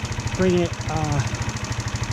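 A GY6 50cc scooter engine idles with a steady, close mechanical pulse while the idle screw is adjusted, and a voice speaks briefly over the running motor.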